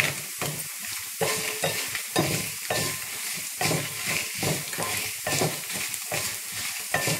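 Dried red chillies with fenugreek frying in hot oil for a Tamil kootu, a steady close sizzle broken by frequent spoon-stirring scrapes and clicks, with no talk.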